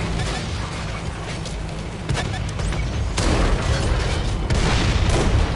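Heavy tank cannon fire and explosions in a console tank battle game, a dense, loud barrage of booms and blasts with sharper hits standing out around the middle and near the end.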